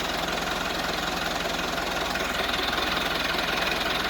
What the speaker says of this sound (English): he's instructing me to put the forklift in first